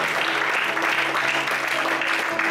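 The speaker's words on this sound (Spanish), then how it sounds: "Dale fuerte el aplauso al Señor." Dense, continuous applause from a church congregation praising God during a Spanish-language service, steady and moderately loud across the whole moment.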